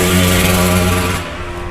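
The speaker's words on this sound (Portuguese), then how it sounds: "Que barulho feio dessa moto" An old Yamaha RD 135Z motorcycle passes with a harsh, buzzing engine drone, loud at first, then dropping away and fading as it moves off.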